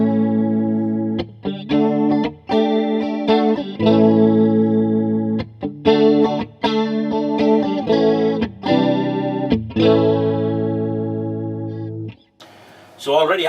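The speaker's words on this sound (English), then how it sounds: "that's a really nice 60s-ish chorus Leslie type sound." An electric guitar strums chords through an Arion SCH-1 stereo chorus pedal, giving a shimmering, warbling 60s-style Leslie-like tone that rings out alone.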